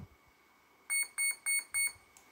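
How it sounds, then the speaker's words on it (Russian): Four short, evenly spaced electronic beeps from an RC aircraft ESC speed controller during throttle programming, bright and clear over a quiet background. "Мы ждем 4 пика"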